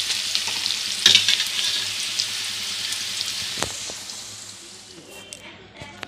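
Potatoes frying in hot oil with a little turmeric, a continuous close sizzle with occasional stirring scrapes and knocks, gradually easing toward the end.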